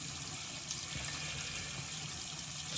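Warm water runs steadily from a tap into a sink, a continuous close hiss and splash with no breaks and no talking.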